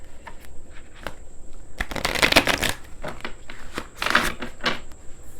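A deck of oracle cards is riffled and shuffled by hand at close range, with crisp papery bursts in several short rounds and quiet gaps between them.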